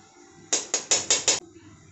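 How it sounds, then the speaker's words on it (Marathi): Ghee goes into a hot kadhai while rava laddu is being made, giving five quick, bright sizzling bursts in close succession, each cutting off sharply, close and fairly loud with no talking. "कढई तापलेली आहे, याच्यामध्ये आपण अगोदर तूप टाकून घेऊयात।"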